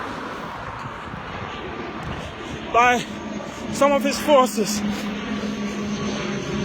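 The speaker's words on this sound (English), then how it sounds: "oh, there's another airplane going." An airplane flies overhead as a steady, broad engine rumble and whoosh under wind noise, while a person talks over it.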